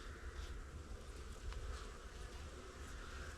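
A dense, steady hum of honeybees inside a hive, a few of them slightly tetchy, rises as a continuous close drone with no voices, the colony about to receive an oxalic acid trickle treatment on a suddenly cold day.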